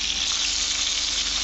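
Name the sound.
jalebi fish frying and being flipped in pan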